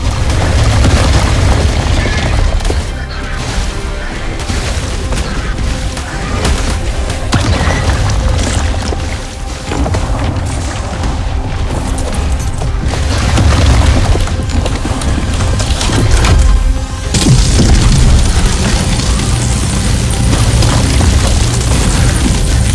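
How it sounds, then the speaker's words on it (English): A sustained, loud sci-fi force plasma blast roars through the ARK Genesis Part 2 game, a dense rumbling explosion with booming low end and crackling bursts that swells and surges for over twenty seconds without letup. "blast a few hundred megawatts of force plasma through you"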